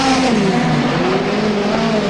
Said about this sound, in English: Barry Watt keeps the car mid-track